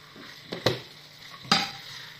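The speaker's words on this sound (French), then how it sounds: "Je vais tout simplement mettre les haricots" Beans drop into a pot of cooking tomato, followed by stirring: a couple of sharp scraping clinks over a soft simmering background, close by and without speech.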